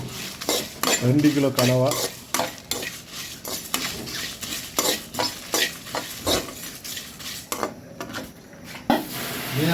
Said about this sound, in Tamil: மல்லி வறுக்குது.